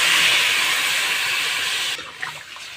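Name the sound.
water being poured into a cooking pot for fish curry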